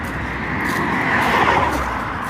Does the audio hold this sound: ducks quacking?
no